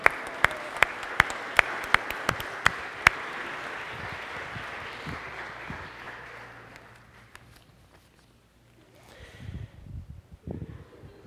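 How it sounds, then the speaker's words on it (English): Churchgoers at a Lutheran service applaud for departing campers, opening with a few sharp, close claps before a fuller round of clapping that fades after about six seconds into quiet room noise and shuffling. "I guess we'll applaud for them"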